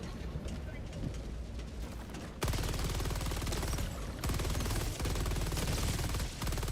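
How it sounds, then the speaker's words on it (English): Rapid automatic gunfire rattles continuously in a sci-fi shooter game while firing at an alien enemy's eye, dense and steady bursts, with a person talking over it. "guess we're just shooting the eye"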